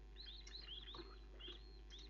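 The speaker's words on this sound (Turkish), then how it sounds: "Kuş gibi cır cır cır cır konuşuyorlar ya fareler" Mice in the Amnesia horror video game give quick high bird-like chirps and squeaks, a scattered series of short faint calls over a steady low hum.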